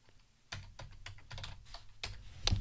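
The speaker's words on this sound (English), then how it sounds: "so I'm just going to type that in" Quiet, close keystrokes on a computer keyboard tap out a short search word in quick irregular clusters, with a slightly louder press at the end.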